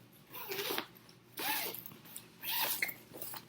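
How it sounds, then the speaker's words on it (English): A zipper on a small travel bag from a subscription starter box is zipped and unzipped in three separate rasping runs, close and fairly quiet, with short pauses between pulls and no talking. "Okay, the zipper is stuck in it."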